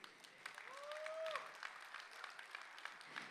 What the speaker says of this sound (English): Once again, can we have a huge round of applause?